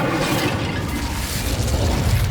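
Incendio fire spell cast in Hogwarts Legacy, a dense roaring burst with a heavy low rumble that holds steady for a couple of seconds, loud and close.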